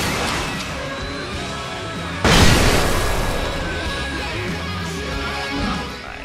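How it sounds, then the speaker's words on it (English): Flashbang grenades go off in a firefight in the video game Alan Wake: one sudden loud broadband blast that lingers as a rumbling wash over steady game background noise. "Flashbangs are nice."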